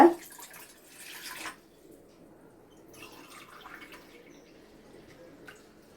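Water poured into a pot for making ragi mudde, a soft splashing pour for about a second and a half, then faint drips and small trickling sounds in a quiet kitchen.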